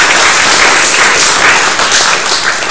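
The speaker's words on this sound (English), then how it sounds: "their very good performance deserves the round of applause" Applause at a 2014 chess closing ceremony in Aberystwyth, a steady dense round of clapping for a prize winner, loud and continuous throughout with no talk over it.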